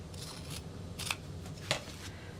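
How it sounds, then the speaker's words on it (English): Scissors snip through fabric pattern pieces for an apothecary bag, cutting the spots a rotary cutter can't reach; two or three short, crisp snips stand out over a soft, steady background rustle, close and fairly quiet. "cut this out with my scissors"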